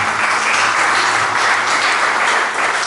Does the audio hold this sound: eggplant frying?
no